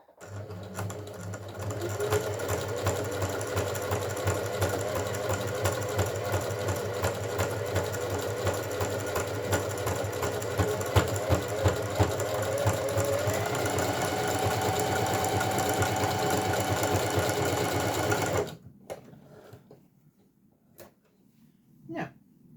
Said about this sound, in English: So we're now going to overlock all the way along here to tidy it up.